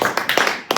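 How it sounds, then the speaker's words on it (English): Wedding guests at Jack and Dulcie's mock ceremony clap for the bride and groom in a few quick, close bursts with short pauses between them. "Now everyone could clap loudly and with a wild abandon together for Mr."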